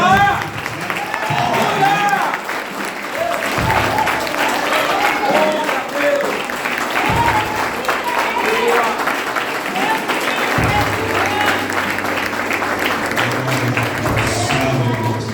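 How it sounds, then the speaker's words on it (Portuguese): A church congregation at a family service applauds mothers with sustained, lively clapping and some cheering, while a voice speaks over the crowd throughout. "Nós estamos de palmas para todas as mamães."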